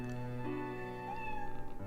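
A pet cat in the Professor Layton vs. Phoenix Wright: Ace Attorney game lets out a clear, drawn-out meow over a soft background music bed, alone and fairly close.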